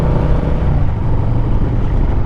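A 1991 Harley-Davidson FXR motorcycle engine drones steadily and loudly while riding, a continuous low rumble with no break and no voices.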